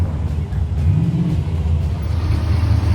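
A Camaro 35th Anniversary SS V8 rumbles steadily at a car cruise, a low, loud idle close by with slight surges in revs throughout.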